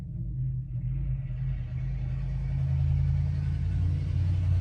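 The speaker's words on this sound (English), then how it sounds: "gotta love construction trucks." Low engine rumble of a construction truck passing outside a home, a steady deep drone that swells slightly louder over several seconds, muffled and heard from indoors, with no talking.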